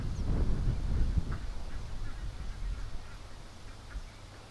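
Ducks quack and honk close by in a steady, busy cluster of calls, louder at first and then easing off.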